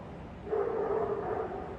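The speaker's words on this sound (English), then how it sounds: "That's a Great Dane bark." A Great Dane gives one deep, drawn-out bark, muffled and moderately faint against a quiet indoor background, with nobody speaking.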